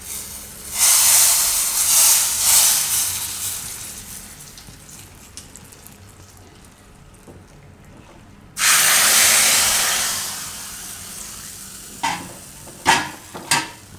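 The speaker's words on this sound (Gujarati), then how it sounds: "આ વઘાર આપણે કઢી ઉપર નાખી દઈએ" A sharp burst of sizzling hiss flares as tempering with curry leaves and asafoetida is poured onto ripe mango kadhi, fades over several seconds, then erupts again loudly, followed by a few clanks of a utensil.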